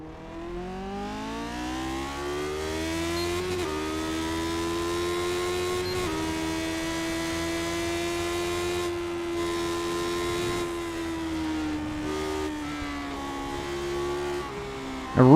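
Stock car engine from the iRacing video game at Bristol, a loud sustained drone holding steady pitch with brief dips and swells between gear or throttle changes, alone without talk.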